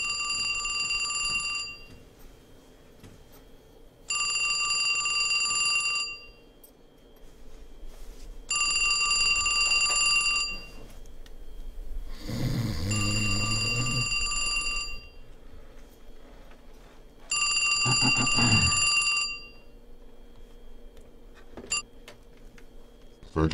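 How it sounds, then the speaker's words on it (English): An in-game telephone in a basement call centre in Two Worlds 2 rings in four loud, evenly spaced bursts of electronic trilling, about two seconds each, with quieter gaps and short noisy thuds between. "Phone's ringing."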